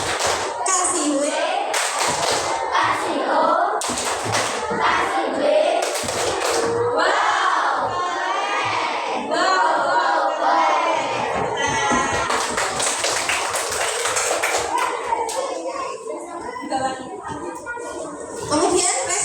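Schoolchildren perform a rhythmic clapping chant in a classroom, patterned hand claps mixed with shouted children's voices and chanting, lively and close for the whole stretch.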